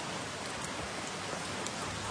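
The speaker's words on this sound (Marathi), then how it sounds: "कसा पाऊस पडतोय बघा." Heavy rain pours steadily on a flooded road, a dense, even hiss of falling water filling the whole span with no pauses and no voices.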